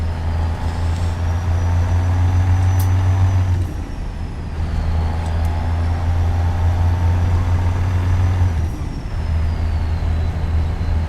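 A Kenworth truck in a trucking simulator game, its deep engine droning steadily with a low rumbling tone, one shift-like dip in the middle and a brief drop near the end, loud and continuous with no talk.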